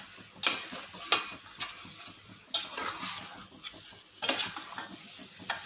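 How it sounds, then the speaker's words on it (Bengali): Spices for mutton curry are stir-fried in a pan, with a metal spoon scraping and knocking against the pan in repeated bursts over a soft, steady sizzle. "মশলাগুলো বেশ ভেজে ভেজে যাক"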